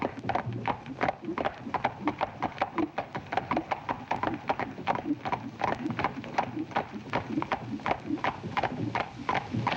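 Horse hooves clop in a steady, brisk rhythm on a hard surface, many beats in a row, close and clear.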